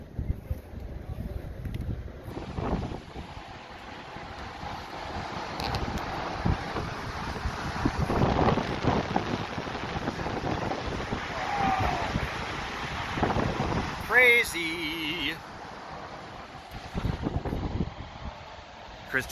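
Wind roars across a microphone on a boat out on the Hetch Hetchy reservoir, a rough, gusting rush throughout, with brief faint voices underneath.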